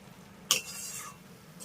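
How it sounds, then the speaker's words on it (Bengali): Ghee and garam masala being stirred into a vegetarian pumpkin dish in a pan, a single short scrape of the spoon followed by a soft sizzle that fades, with one more faint scrape at the end. "এবার আমি ঘি আর গরম মশলাটা এই রান্নার সঙ্গে ভালো করে একবার মিশিয়ে দেব"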